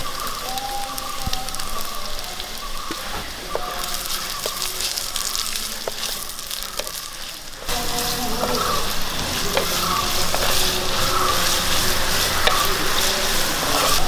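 Chopped ginger, garlic and onion frying in hot oil for a fish curry, a continuous near sizzle with occasional stirring clicks, growing louder and denser as more goes into the pan.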